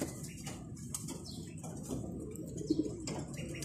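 Pigeons in a loft give soft, low coos over a steady murmur of background noise, with a brief flutter and a couple of slightly louder calls near the end.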